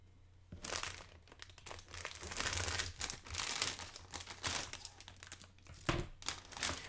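A Gundam HG 1/144 Industrial Ver. kit's first plastic bag being opened: loud, close crinkling and rustling of plastic arrives in repeated bursts over several seconds, with brief tearing sounds and no talk.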